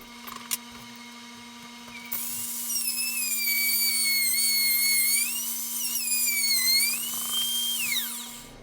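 A plunge router cuts into wood, its high whine rising as the bit bites in, holding a strained, wavering pitch for several seconds, then spinning down to a stop in the cut over a steady background hum.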